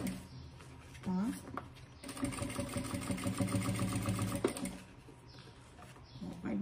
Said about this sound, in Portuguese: vai puxando e vai fazendo a costura bem devagarzinho, pra não ir mudando